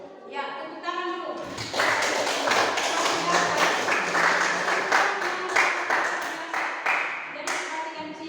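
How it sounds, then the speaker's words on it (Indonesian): A group claps in a brief round of applause in a classroom-like room, the hand claps irregular and close, preceded by a short stretch of talk. "Ya, tepuk tangan dulu."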